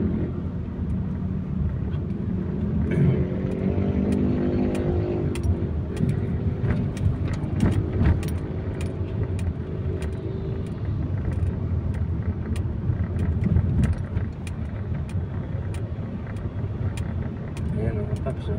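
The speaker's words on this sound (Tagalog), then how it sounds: "Tingnan nyo po talagang kabilaan na po talaga yung heavy traffic." Dense road traffic at a busy stoplight with many cars rumbles steadily throughout, engines and passing vehicles blending into a continuous broad noise, with sharp clicks and someone talking over it for much of the time.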